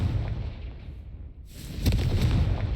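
Confringo blasting spell in Hogwarts Legacy: a low rumbling whoosh dips briefly, then swells into a loud crackling burst that hangs on to the end.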